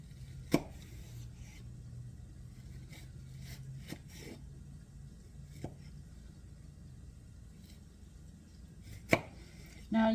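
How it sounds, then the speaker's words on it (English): A knife chops vegetables for sloppy joes on a cutting board in a quiet kitchen, striking in a few scattered, sharp, close taps spread across the stretch with no talk. "you'll get more uniform in your chopping if you wish to be more concerned about it"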